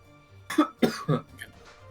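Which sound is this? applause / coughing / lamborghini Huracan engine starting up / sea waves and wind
coughing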